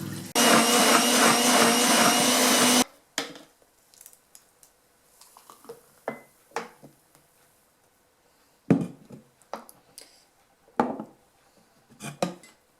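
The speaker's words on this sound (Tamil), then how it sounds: "இதை போட்டு அரைச்சிட்டு அதோடு சேர்த்து நான் தேசிக்காய் நீரும் விட்டு அரைக்க போகிறேன்." A blender grinds chopped pineapple with lemon juice, a loud steady whir for about two and a half seconds that stops abruptly, followed by scattered clinks and handling knocks in a kitchen.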